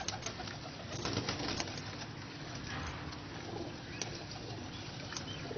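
Pigeons in a netted loft in a Lahore flying and breeder setup, including Ali-wala birds, coo softly in a continuous low murmur, with faint flutters and rustling nearby.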